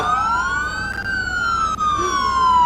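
A police car siren wails loud and close, its rising and falling tone sweeping continuously with no other sounds over it.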